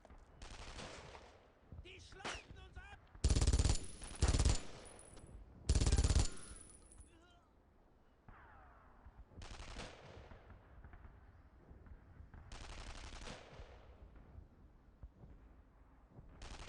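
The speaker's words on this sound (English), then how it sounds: "My turret doesn't swivel around that far. My machine gun emplacement," Mounted machine gun emplacement firing in Brothers in Arms: Road to Hill 30, heard as loud, close bursts of rapid automatic fire, separated by quieter gaps of battlefield rumble and distant shots.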